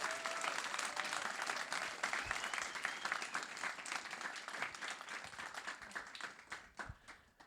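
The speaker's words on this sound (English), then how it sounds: "Let's give another round of applause for everyone's films." Audience applause after a documentary film screening event, a dense sustained round of clapping that thins and tapers toward the end, with faint crowd murmur underneath.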